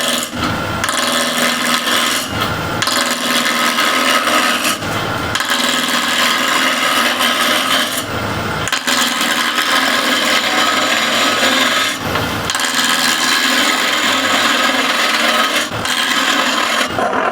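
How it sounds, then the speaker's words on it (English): A Continental spindle gouge knocks the corners off a blank of extremely hard wood turning at about 1200 RPM, producing loud, close rasping cuts in long bursts broken by short pauses, with no speech. "I'll use a Continental spindle gouge just to remove the corners first."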